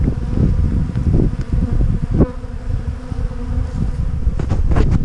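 Honey bees buzz steadily and close at sugar syrup in a bee yard, a dense continuous drone with individual insects passing near.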